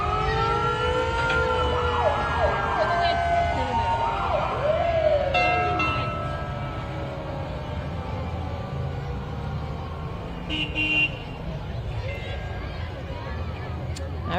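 The Westfall Hose Company antique fire truck's siren wails at a Christmas parade on Main Street, rising and falling loudly in the first seconds before fading, with a crowd talking and street noise around it.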